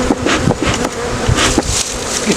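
Honeybees at a hive during spring splitting, with a smoker in use, give a dense, steady buzz close by that swells and dips slightly throughout.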